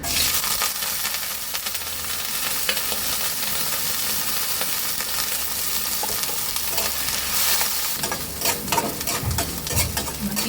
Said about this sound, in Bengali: তেলও গরম হয়ে গেছে, নারকেলগুলো ভেজে নেব।